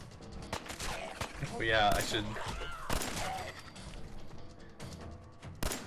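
Gunshots in Fallout 4 ring out as several distinct sharp bursts spaced across the moment, mixed with game effects and someone talking over them.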